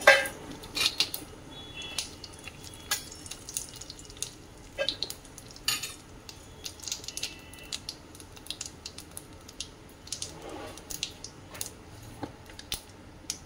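Whole spices (dried red chilli, cinnamon stick, cardamom, bay leaf, cumin, cloves, peppercorns) stirred in hot oil in a pan, with close metallic scrapes and clinks of a spoon against the pan over a low sizzle.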